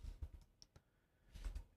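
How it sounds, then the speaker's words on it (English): Quick clicks of typing on a computer keyboard, a few scattered keystrokes and then a short burst, fairly quiet and close with no talking. "Oops, typing in the wrong window."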